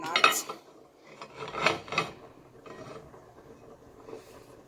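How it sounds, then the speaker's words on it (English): Dumplings stirred around in a pot of Jamaican cornpork and ackee, giving a few close clinks and scrapes of a utensil against the metal pot in short bursts, with quieter rustling between them and no talk. "So all the dumplings are in now. I stir it around a little."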